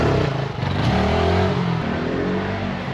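A 25 cc motorcycle engine runs loud and close, its revs rising and falling in a steady, continuous drone.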